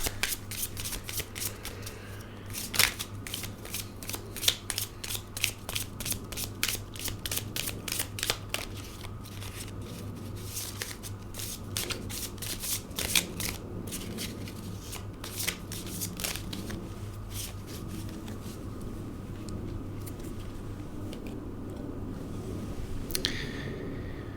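Tarot cards are shuffled repeatedly in quick riffling bursts, close and crisp, with brief pauses between runs and no voices.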